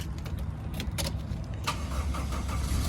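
A Toyota 4A 1.6-litre twin-cam 16-valve engine cranks and catches, then settles into a smooth idle, preceded by a few faint clicks and rattles nearby.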